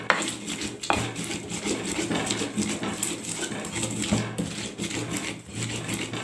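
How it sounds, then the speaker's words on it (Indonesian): Chili sambal is ground by hand in a stone mortar, a cobek, for soto ayam Lamongan: continuous scraping and knocking of stone on stone with irregular sharp clacks, close by and moderately loud. "Untuk sambalnya kita haluskan gini saja. Boleh pakai blender atau pakai cobek seperti ini ya."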